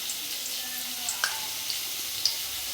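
Bay leaf, cinnamon sticks and cardamom pods hit hot oil in a kadai for a Bengali goat meat curry, giving a steady soft hiss with a few sharp little crackles and pops.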